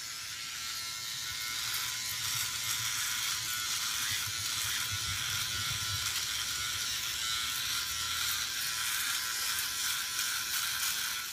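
A razor blade, either a One Blade or a double-edge safety razor, scrapes across stubble in a continuous close crackling rasp with faint low rumbling underneath, steady with no voices.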